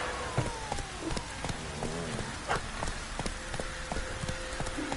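Steady rain pours down on a surface in a video game, a dense wash of patter with scattered louder drops and no voices.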